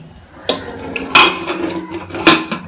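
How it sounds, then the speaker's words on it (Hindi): A pressure cooker lid is fitted on while cooking rajma masala, giving a few sharp metallic clanks and knocks spaced irregularly over a quiet background. "अब हम कुकर का ढक्कन लगा देंगे"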